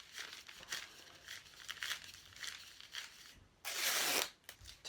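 Paper is twisted by hand into a long sausage for a papier-mache dinosaur neck, making close, repeated crinkling and crumpling rustles that end in one louder, sustained crunch.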